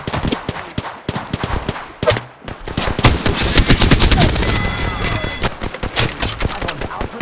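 Rapid sustained automatic fire from the Devotion LMG in Apex Legends, loud and close, rattling continuously for several seconds with brief pauses, over game ambience and voice chatter.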